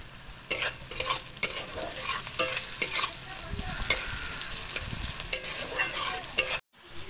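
Chopped onions and green chillies fry in a pan for homemade chicken biryani, a loud close sizzle broken by repeated scraping stirs of a spoon, stopping abruptly at the end.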